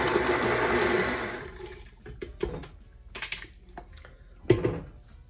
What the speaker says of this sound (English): Now, I'm gonna beat everything again until it's fully incorporated and smooth.